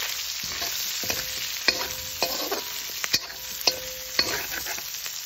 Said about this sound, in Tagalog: Lagyan natin guys yung balat ng baka.